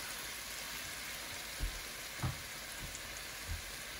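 Frozen pot stickers fry in a pan with a steady close sizzle and crackle, a few louder pops and spatters standing out, no talking.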